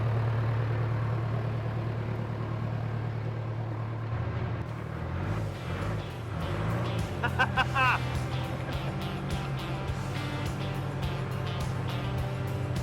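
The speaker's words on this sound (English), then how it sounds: "let's drive it out of here" Old abandoned tractor engine running steadily with a low, throbbing idle as it drives out, joined by clanking and rattling mechanical knocks midway and a brief higher squeal, continuous and close throughout.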